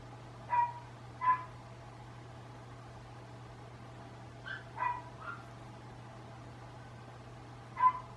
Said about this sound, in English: The dog is just starting to drive me crazy.